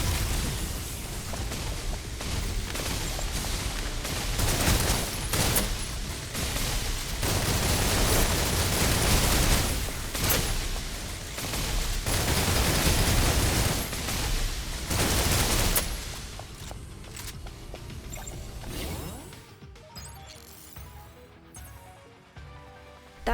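Sustained video game battle gunfire, dense overlapping bursts and blasts at steady high loudness for about fifteen seconds, then thinning into scattered faint shots and quieter ambience.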